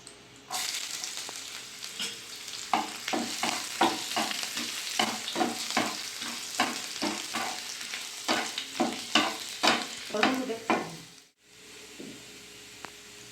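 Slit dried red chillies and chopped ginger and garlic hit hot white oil in a pan while cooking chilli paneer. A loud, steady sizzle runs throughout, broken by rhythmic scraping stirs, then it cuts off abruptly near the end. No one speaks.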